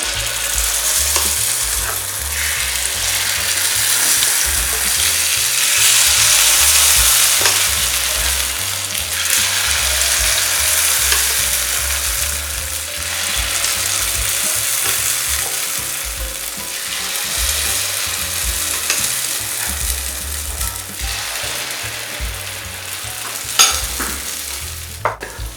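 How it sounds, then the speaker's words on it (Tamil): Sweet paniyaram batter made with soaked semolina fries in a kuzhi paniyaram pan, giving a steady close sizzle with waves of crackling and occasional light metallic scraping, continuous with no talk. "இப்போது நம்ம தித்திப்பு பணியாரம் ஊற்றுறோம்."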